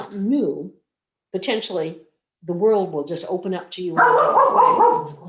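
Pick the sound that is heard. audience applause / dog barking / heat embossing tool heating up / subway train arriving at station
dog barking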